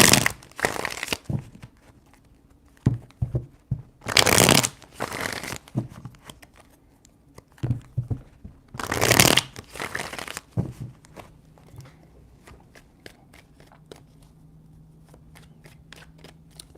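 Tarot cards are shuffled in three separate bursts of crisp riffling and crinkling, close and clear, with soft handling noises and light taps in between and no talking.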